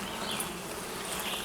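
A steady, dense hum of honeybees buzzing close up at an open Kenyan top bar hive, continuous and even throughout, with no voices.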